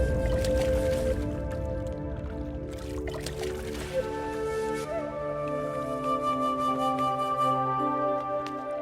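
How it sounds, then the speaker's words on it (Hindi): Two clay pots are lowered into water, making gurgling, sloshing and bubbling sounds, with a few brief knocks and splashes in between. "अब आप इन दोनों घड़ों को पानी में डाल दीजिए।"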